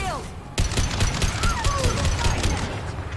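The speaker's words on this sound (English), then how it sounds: "Hey, who's shooting at me?" Rapid bursts of gunfire erupt in a firefight in Mass Effect 2 Legendary Edition, loud repeated shots stacking densely after a sudden onset, with voices talking over the battle.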